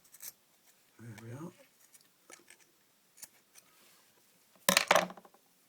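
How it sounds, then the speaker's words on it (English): Scissors snip through a NATO watch strap in a few short, crisp cuts, with a louder burst of cutting and rustling near the end amid quiet handling noise and a brief voice. "So I'm just going to trim that up a little bit more with the scissors."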